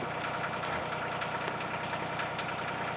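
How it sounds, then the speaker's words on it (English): A tractor engine idles in a small shed down the hill, a faint, steady low rumble with a light knocking texture that continues evenly with no talking. "I just fired up the tractor. It's running in its little cubby hole down there"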